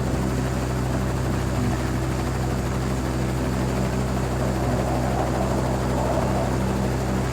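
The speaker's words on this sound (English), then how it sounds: "Bring the chopper." A helicopter drones steadily and loudly close by, a constant thick rotor and engine roar with no break for several seconds.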